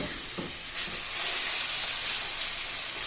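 Chopped onions hitting hot oil in a home kitchen pan, a bright continuous sizzle that swells up partway through and then holds as a loud, steady hiss.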